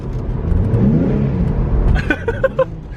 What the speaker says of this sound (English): It revs super quick. Give it some gas in third.